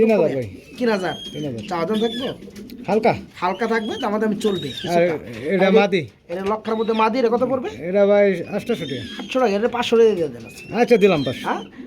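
Pigeons, part of a batch of sixty pairs sold with eggs and chicks, coo close by in repeated throaty rolling calls that overlap one another, with human voices mixed in.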